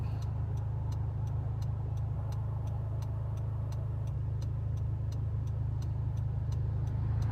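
A 2020 Honda City with a remapped engine drives in D, giving a steady low engine drone under a faint, regular ticking.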